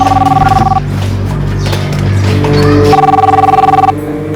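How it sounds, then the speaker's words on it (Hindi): A telephone rings at home, a repeating electronic trill that sounds in two bursts, one at the start and one near the end, loud and close over a low hum. "देखो तो किसका फोन है?"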